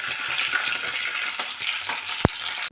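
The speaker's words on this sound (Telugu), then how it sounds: "నేను జీడిపప్పు ప్లేస్లో పల్లీలు వేసుకుంటున్నాను ఈ పల్లీలు బాగా ఫ్రై కావాలి" Peanuts fry in hot oil for upma, a soft, continuous sizzling hiss with light bubbling and one brief sharp tick near the end, with no voices.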